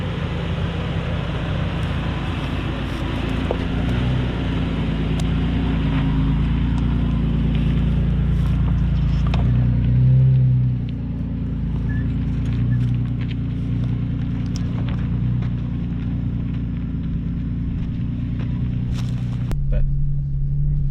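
A 2020 Toyota 4Runner TRD climbing a rutted trail, engine a steady heavy low rumble close by, with occasional bumps and knocks from the terrain as it powers on.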